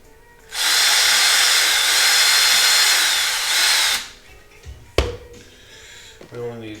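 A power drill boring screw clearance holes in a robot-toy hack, one loud steady whine of about three and a half seconds, followed by a sharp knock and light handling noises.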